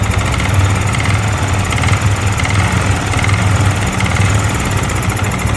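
A used Yamaha R15 V4 motorcycle with heavy smoke from its exhaust runs steadily, giving a loud, continuous engine drone with a low, even throb throughout and no voices.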